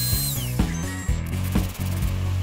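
A CNC router cuts out wine holder parts, including the dados. A continuous machine whine runs throughout, broken by repeated rattling, grinding bursts from the cutter, and no one speaks.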